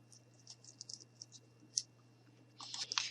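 Scissors snip away excess felt on a craft gnome's nose, with a series of quiet, crisp clicks and snips spaced irregularly, then a denser burst of cutting at the end, close and faint over a low hum.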